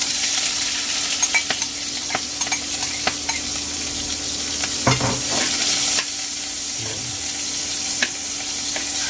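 Onions sautéing in hot cooking oil for beef mechado give a steady, close sizzle with scraping stir strokes and a brief louder clatter partway through.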